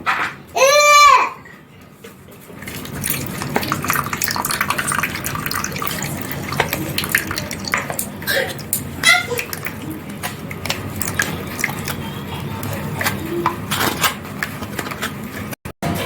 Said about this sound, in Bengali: এখন আমি একটা ছাঁকনিতে ছেঁকে নেব।